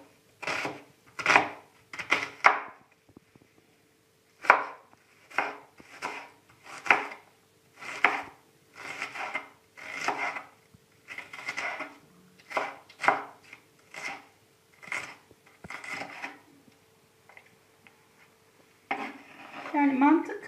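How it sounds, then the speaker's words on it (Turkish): Onions being chopped with a knife on a board for stuffed mushrooms, a series of close, sharp knife taps in short clustered runs with brief pauses between. "Önce soğanlarımı yemekle doğruyorum."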